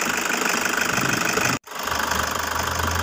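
A Toyota Hiace with a 2KD diesel engine idles close by with a steady rattling, knocking clatter. The sound cuts out abruptly for a moment partway through, then resumes.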